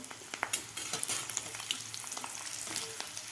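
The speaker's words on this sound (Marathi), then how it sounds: "त्याच तेलामध्ये आपल्याला थोडासा हा ठेचून घेतलेला लसूणसुद्धा तळून घ्यायचा आहे" Crushed garlic fries in a little oil with a faint, fine crackling sizzle and a few soft clicks of stirring near the start.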